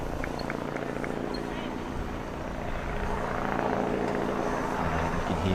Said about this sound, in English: And you can hear that helicopter coming back again.